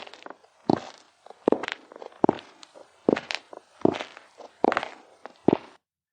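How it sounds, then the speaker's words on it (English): Footsteps of a woman walking, a steady series of seven or eight clear, close thudding steps at an even pace, alone with no talk, as a story sound effect. "And then he heard the footsteps of the woman behind him."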